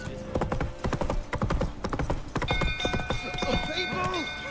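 Roach, the horse in The Witcher 3, galloping with rapid, rhythmic hoofbeats that thud loudly up close, then slow into a snorting, whinnying halt as music tones rise in the game's soundscape.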